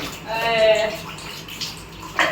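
Hands washed under a running tap, a close splashing water stream that fades within a couple of seconds, followed by faint rustles and a short thud, with no talking.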